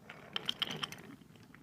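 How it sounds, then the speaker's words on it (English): A Thomas wooden toy train backs into buffers, giving a short cluster of close, creaky ratcheting clicks and cracks that fade out within a second. "he backed up into some buffers, which made a creepy, cracking noise"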